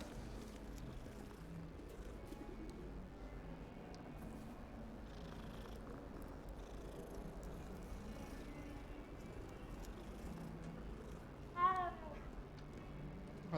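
A cat in the Hogwarts Legacy video game purrs quietly in a soft, continuous rumble, then lets out a single brief, clear meow near the end.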